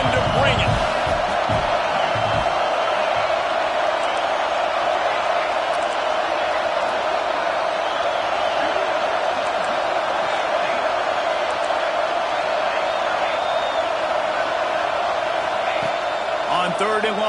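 A football crowd at a PSU stadium roars in a dense, unbroken wash of cheering that stays loud and steady throughout, while a commentator speaks over it.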